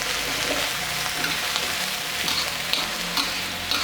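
Chinese kale stir-fried with vegetarian salted fish and oyster sauce, a loud continuous crackling sizzle broken by clinks and scrapes of a spatula against the pan, close and without speech.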